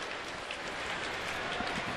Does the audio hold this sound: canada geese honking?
no